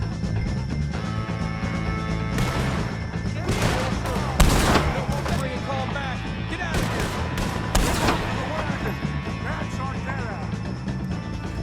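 Gunfire in the Western video game Red Dead Redemption 2 during a shootout with O'Driscoll gang members: several loud, sharp gunshot volleys and cracks over a music bed, with a particularly heavy blast near the middle and a voice speaking.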